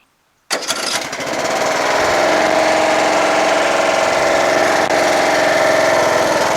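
A Craftsman LTS1500 lawn tractor engine abruptly starts and runs, a loud, close, steady droning mower hum with a constant whine as it drives, no voices over it.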